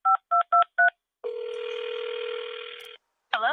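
A telephone beeps out four quick keypad tones to place a call, followed by a steady dial-style tone lasting nearly two seconds, then the start of a warbling ring, loud and close.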